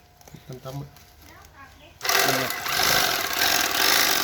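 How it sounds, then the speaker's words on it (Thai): A sewing machine starts up and runs at a steady clattering whir, stitching 25 kg sacks of rice closed, following a short stretch of someone talking close by. "เย็บกระสอบให้ย่างดีครับยี่สิบห้ากิโลทุกสอบนะครับ"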